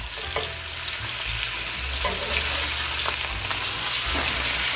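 A rib eye steak just flipped in a hot pan, sizzling loudly and close with a constant crackling hiss that swells slightly toward the end, with no talking.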